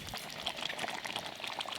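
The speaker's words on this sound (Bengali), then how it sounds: "নামানোর পরও কি সুন্দর গুটগুট করে ফুটছে, এটা মাটির হাঁড়ি বলেই সম্ভব।" Chicken curry keeps bubbling in a clay pot off the heat, a quiet, close run of small irregular blips and pops over a soft simmering hiss.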